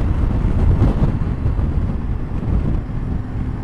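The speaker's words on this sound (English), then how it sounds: "the wind is fucking bad" Strong wind buffets the microphone on a Yamaha Tenere 700 motorcycle riding through wild Wales, a loud continuous low roar and rumble with gusty swells and no voices.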